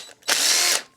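A short, rapid ratcheting whir lasting about half a second, loud and close, as a tool loosens a bolt on a lawn mower carburetor.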